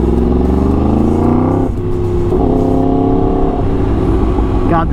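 A 2016 Yamaha R1 motorcycle engine runs loud and close throughout, its note climbing steadily as it revs, dropping briefly, then holding a steady high drone with a rising blip near the end.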